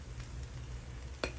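A spatula scrapes and stirs fried rice in a hot pan with a faint steady sizzle, then one sharper metallic scoop near the end; no voices.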